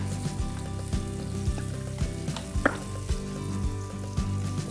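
Minced garlic sizzling steadily in blended olive oil in a pan while Sunday sauce is being made, a close, continuous frying hiss with a few faint clinks of utensils.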